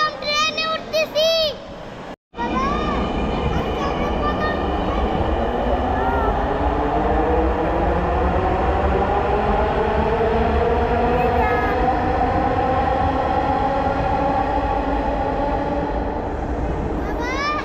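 A metro rail train ride: a loud, steady rumble of the moving carriage fills the whole stretch, with electric motor tones sliding upward as the train accelerates, plus a brief cut near the start and possible voices early on.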